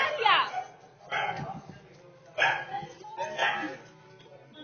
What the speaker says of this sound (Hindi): कुत्ता की आवाज आ रही है वो।